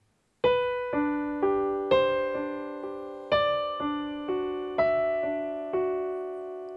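Solo piano plays a passage, a series of about nine sustained chords struck at a steady, unhurried pace, each ringing and decaying before the next, with a shifting upper note; close and clear, no talking.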